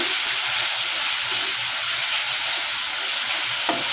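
Spice paste fries in a pan for a chicken curry, making an even, close hiss throughout with faint stirring knocks and no talk.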